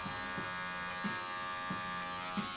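Electric hair clippers fitted with a 0.5 half guard buzz steadily while cutting hair during a home fade haircut, with a few rhythmic swells as the clipper passes through the hair, close and continuous, no talking.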